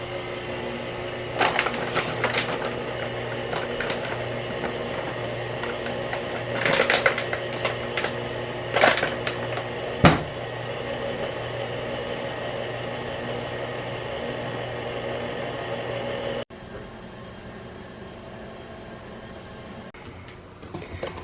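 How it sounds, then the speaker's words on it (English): An electric mixer whisks challah dough ingredients with a steady, droning motor whir and occasional rattling clicks, running at an even level before cutting off, leaving quieter room noise. "Now we're whisking the ingredients."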